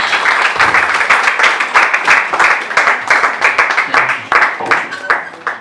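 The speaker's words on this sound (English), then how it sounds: "A round of applause as he comes to the stage." Audience applause at a presentation event in Nsukka as a speaker walks to the stage, loud and close with dense, pulsing handclaps throughout.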